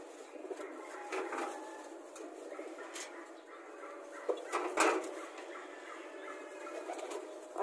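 Pigeons cooing in a loft, soft low calls drifting over a faint background hum, with a sharper bird call near the middle and a distant dog bark.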